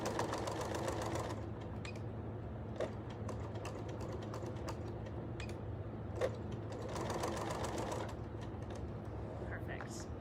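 Sewing machine back stitching, a steady rapid mechanical whir with short bursts of faster stitching at the start and again later, close and clear, while people talk quietly.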